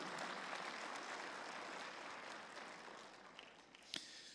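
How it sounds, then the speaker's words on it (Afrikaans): A church congregation claps together during an evening service, a broad, even wash of many hands applauding that holds steady and then slowly fades, heard from a distance. "Kan ons Here 'n hande klap gee vir sy goedheid?"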